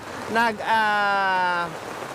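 Steady, dense hiss of heavy rain fills the whole clip on a Philippine street where an ice cream vendor is peddling, with a loud drawn-out tonal call rising over it near the start.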